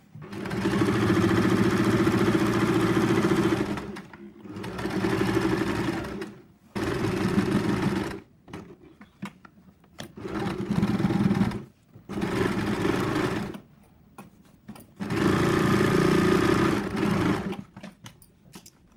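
A sewing machine stitches a wing-hand sleeve design in runs of fast, steady whirring, several bursts of a few seconds each broken by short pauses, close and alone.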